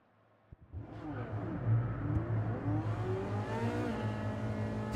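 Engine revving in Gran Turismo 7 on a race track, climbing in pitch as the car accelerates, with a steady harmonic drone that holds loud and close throughout after a brief quiet start.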